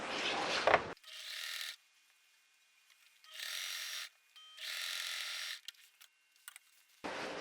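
Sewing machine stitching the shoulder seam of a hanbok, with several separate motor runs of a few seconds each and quiet pauses between them, close and moderately loud, preceded and followed by louder handling noise.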